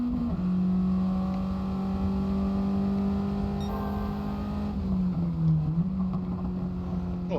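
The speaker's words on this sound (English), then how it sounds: "Oh, listen to the exhaust. Sounds really sweet." A steady, droning race car exhaust note in Gran Turismo 7 holds a low pitch throughout, dipping briefly near the end before settling again, loud and continuous with no talk.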